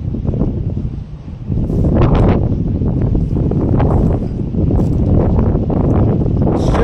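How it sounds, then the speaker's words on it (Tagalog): Strong wind buffets the microphone on a seashore at low tide, loud rumbling gusts that rise and fall continuously with no voices. "Mahangin po ngayon."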